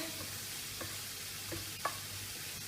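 Sliced onion and peppers sizzling gently in a pan over low heat, a soft steady hiss with a few faint stirring clicks, no voices.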